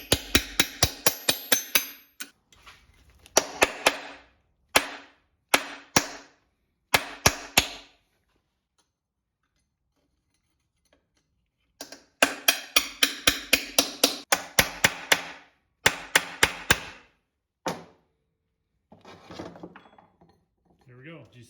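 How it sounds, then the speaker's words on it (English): A hammer pounds E30 325ix transfer case halves apart on long dowels with sharp metallic strikes in quick clusters, broken by pauses. "These dowels are pretty long, so you're gonna be pounding for a while."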